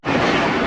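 The Ravi Express passenger train, from Lahore to Nankana, rumbles loudly along the rails in a short, steady burst heard from on board.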